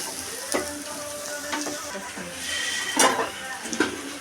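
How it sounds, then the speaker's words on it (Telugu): Red chili powder fries in a pan with masala for paneer and soya chunk biryani, a steady close sizzle with a few clinks and scrapes of a stirring spoon against the pan. "కారం కూడా పచ్చివాసన పోయేదాకా వేయించుకోవాలి."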